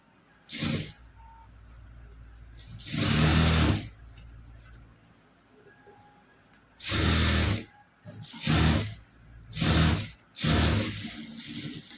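A sewing machine stitches a blouse in bursts, several short whirring runs of the needle mechanism separated by pauses, close and clear with no talk.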